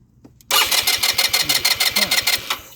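A Lance Cabo scooter engine cranks and catches after a brief click, then runs with a steady rapid pulsing rhythm, close and fairly loud, with no talk over it.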